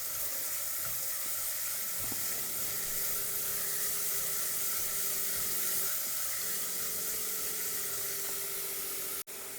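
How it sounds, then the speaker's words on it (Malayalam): Small onions and sliced onion sautéing in a pan for a Kerala-style beef curry, a steady close hiss and sizzle running throughout with faint stirring, no voices. "ഇത് രണ്ടും ഒന്ന് നന്നായിട്ടൊന്ന് വഴറ്റിയെടുക്കാം."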